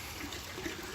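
Koi pond waterfall running during a pond build, a faint, steady trickle and splash of flowing water with no talk.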